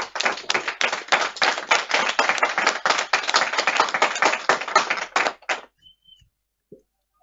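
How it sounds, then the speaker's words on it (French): Crowd applause at a political party congress: a burst of sharp, closely spaced claps lasting several seconds, then abruptly dying away to near silence with a couple of small stray sounds. "Soyez salués, applaudissez-vous vous-même."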